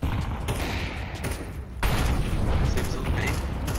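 An HE grenade goes off during a Counter-Strike 2 match on Mirage, a loud burst that swells into a sustained rumble of gunfire and game noise, with a sharper surge partway through.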